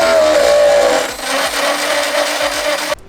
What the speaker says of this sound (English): I'm gonna go ahead and drill through this section right here to run the wires for the LED light strip